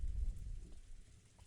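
Rain in the Umineko visual novel game, a soft, faint steady patter with a low rumble underneath, heard alone without talk.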